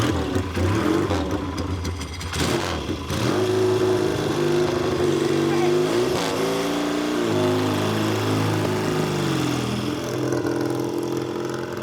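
A motorcycle engine revs and pulls through the gears on a shakedown ride, a continuous mid-pitched drone that rises and falls with throttle changes, steady and fairly close.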